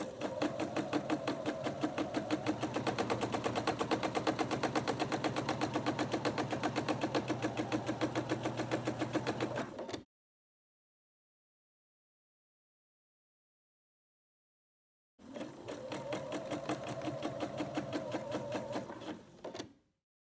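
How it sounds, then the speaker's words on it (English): A sewing machine stitches a quarter-inch seam on a quilt block with a rapid, even mechanical chatter, running steadily for about ten seconds, then pausing in silence before a shorter second burst of stitching. "I'll sew a 1/4 inch seam on each side of the line that I've drawn."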